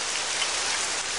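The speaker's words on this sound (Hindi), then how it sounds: "बारिश? ये तो बहुत कम है।" Cartoon rain pours down steadily as a dense, even hiss that fills the whole stretch with no voices.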